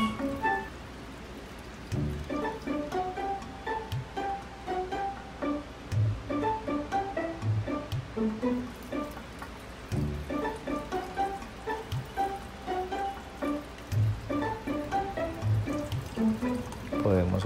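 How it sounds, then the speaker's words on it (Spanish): Dark fish stock, strained, is poured into rice in a kitchen, a liquid pour with repeated splashes and clinks under a voice speaking Spanish and soft background music. "Luego filtramos o colamos nuestro fondo oscuro y lo adicionamos para iniciar la preparación del arroz."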